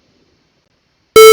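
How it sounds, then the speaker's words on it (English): Silence gives way to a sudden computer beep from a timer in a homemade operating system, a single steady electronic tone, loud and buzzy with strong overtones, starting abruptly near the end. "it's beeping and it's working"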